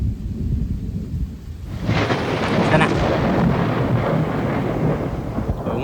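After a couple of quiet seconds, a loud roll of thunder breaks out and rumbles on steadily, with rain falling in the background.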